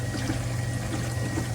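A calcium reactor in an aquarium setup gives a steady watery trickle and low hum as bubbles rise through its sight glass, close and continuous, with no talking.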